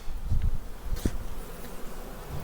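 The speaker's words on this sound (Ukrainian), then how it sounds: "Тут бджола, тут є бджола" A steady low buzz of honeybees at a hive, close and continuous, with a few soft knocks and rustles.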